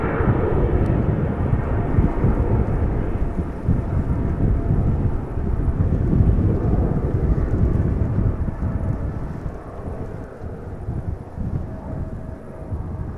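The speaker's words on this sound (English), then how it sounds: "So this KLM 777-200, KLM flight 895 is going to Shanghai." A KLM Boeing 777-200 airliner at Amsterdam Schiphol Airport roars with a broad, steady rumble, loud and sustained, with some wind buffeting on the microphone, easing slightly toward the end.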